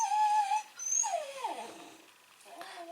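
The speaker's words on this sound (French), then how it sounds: "Ma chienne pleure beaucoup aujourd'hui" A pet dog whimpers and cries in a series of high, wavering whines that slide down in pitch, fairly close and alone, with short pauses between the cries, while work goes on outside.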